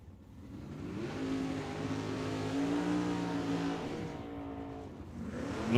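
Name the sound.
Gen 3 Camaro drag racing car accelerating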